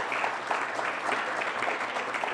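An audience at a Society of Benchers induction ceremony claps for Professor Katz. The applause is moderate and continuous and lasts a couple of seconds with no talking over it.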